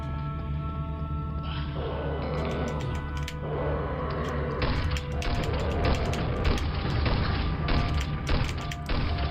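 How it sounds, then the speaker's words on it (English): Grenade explosions in a Quake brutalist-style mod, a dense run of booms, crashes and thuds layered over a steady droning game soundscape, loud and continuous throughout. "Oh no, my grenades are going through the floor!"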